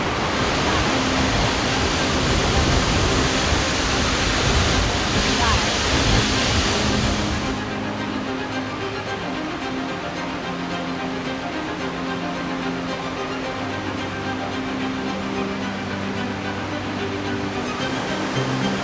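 Seljalandsfoss waterfall in Iceland, beside the Ring Road, gives off a loud, steady rushing roar of falling water. The roar is heaviest in the first half, then drops to a softer but continuous wash.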